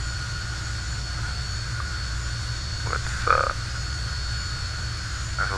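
Fokker F28 jet engines in Microsoft Flight Simulator, a steady loud drone with a sustained high whine, unbroken across the moment, with a single word spoken briefly near the end.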